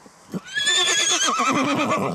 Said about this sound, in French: Très vite, Nicolas Blondeau invite le cheval à se confronter à toutes les situations.